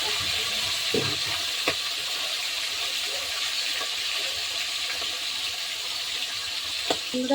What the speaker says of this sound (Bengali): মাছের মাথাটা ভেজে নিতে হবে।